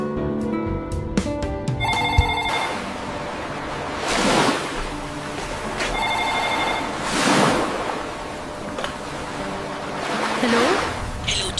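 A telephone rings in repeated electronic bursts over a background of rolling ocean waves washing in and out.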